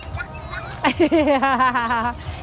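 A person's voice imitates a duck's quack in a short, nasal, honking call at a park, heard close after a few faint background murmurs.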